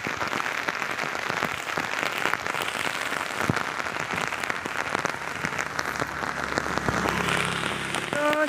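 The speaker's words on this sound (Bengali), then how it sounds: "যত এগোচ্ছি তত বেশি করে বৃষ্টি পড়ছে" Heavy rain falls steadily on a street on a school-run trip, making a dense, continuous hiss at even loudness throughout, with a few brief chirping tones near the end.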